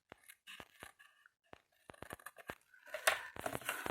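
Scissors snip through paper to make compartments for a flower storage box: a quiet, uneven series of sharp cuts with light crinkling and rustling.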